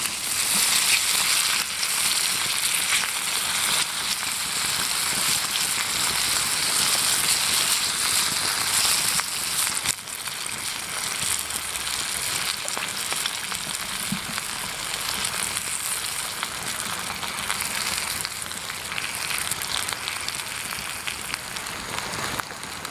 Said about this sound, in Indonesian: Ini pertama-tama kita goreng ikan asin ya.